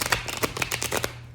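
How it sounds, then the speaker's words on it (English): Tarot cards shuffled close up in a quick burst of crisp riffling flicks, a rapid papery patter that stops after about a second, with no voice over it. "One more shuffle."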